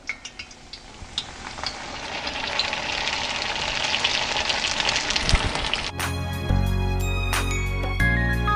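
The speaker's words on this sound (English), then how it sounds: "you're just going to add your egg rolls to some heated peanut oil" Vegetable egg rolls frying in heated peanut oil, a steady close crackling sizzle that builds over several seconds before abruptly giving way to other sounds near the end.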